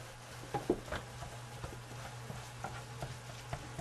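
Hamburger meat frying in a pan gives off a soft, steady sizzle with scattered small pops and crackles, faint and close, with no voices.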